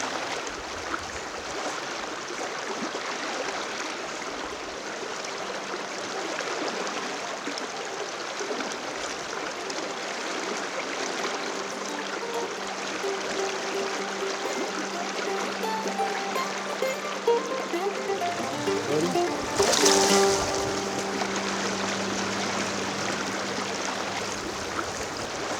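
River water rushes and burbles steadily around a wading angler's legs in the Brooks River at Katmai National Park, Alaska, a dense continuous flow with a brief louder splash near the end.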